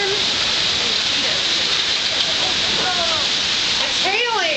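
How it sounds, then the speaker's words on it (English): Hail falls during a daytime storm in Daytona in spring, a loud, steady dense hiss of pelting ice and rain that continues throughout, with a few faint voices or cries near the end. "It's hailing. It's hailing,"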